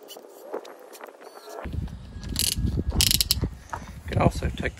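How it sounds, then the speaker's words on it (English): Drilled holes in a Weber kettle grill are deburred by hand with a deburring tool, making close, repeated scraping and ratcheting metal clicks in an irregular rhythm. "Just do a quick deburr."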